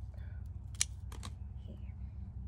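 Scissors snip through the stem of an Echeveria Olivia succulent, a couple of short crisp cuts close by over a low steady background hum.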